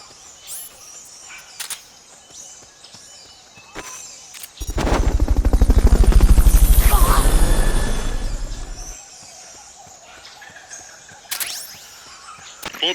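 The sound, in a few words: helicopter from Metal Gear Solid: Peace Walker video game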